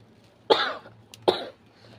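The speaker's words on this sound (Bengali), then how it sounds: "কাশি হচ্ছে আমার।" Two sharp, close coughs come about three quarters of a second apart, each a short rough burst over a faint steady low hum.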